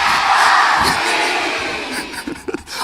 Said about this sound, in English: So give us a great big cheer.